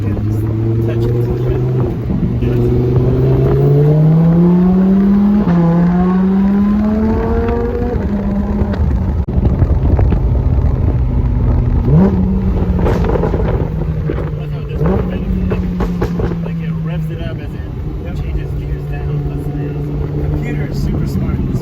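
A Lamborghini engine rumbles and revs up through rising then settling tones, loud and close, with people talking over it.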